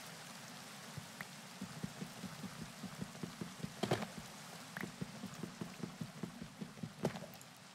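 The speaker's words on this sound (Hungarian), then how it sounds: "megint esik az eső" Rain falling in the video game Minecraft, a steady patter of drops with irregular louder taps scattered across the clip, moderately close and without talk.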